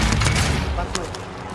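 Gunfire in the video game Call of Duty on the Fortune's Keep map, a brief heavy burst of shots with low booming rumble fading into a softer crack, heard under a player's voice.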